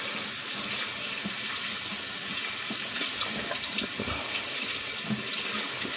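A shaving brush is rinsed under a running tap, a steady rush and splash of water into a sink lasting several seconds, close up and with no talking.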